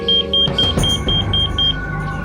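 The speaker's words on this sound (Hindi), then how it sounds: "ये थर्मोमीटर साफ साफ बता रहा है कि इस बॉक्स का टेम्परेचर बढ़ रहा है और ये उसी का अलार्म है" A temperature alarm on a cold storage box sounds a series of high, evenly spaced electronic beeps, about eight short pulses in quick rhythm, loud and close over a backdrop of dramatic music.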